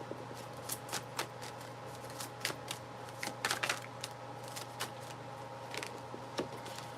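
Tarot cards are shuffled by hand in a quiet room: a run of soft, irregular snaps and riffles, close and fairly faint, with a low steady hum beneath and no talking.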